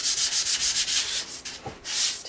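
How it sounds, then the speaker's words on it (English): Sanding disc smoothing rough painted texture on a decorative tole painting, rhythmic back-and-forth rubbing strokes, close and fairly quiet, with no voices. "so I'm just going to use a sanding disc"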